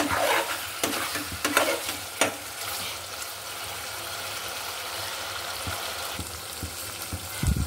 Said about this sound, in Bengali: মাংসটা ভালোভাবে কষিয়ে নিতে হবে